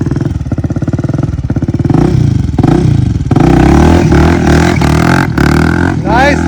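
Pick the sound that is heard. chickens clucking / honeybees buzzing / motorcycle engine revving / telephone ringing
motorcycle engine revving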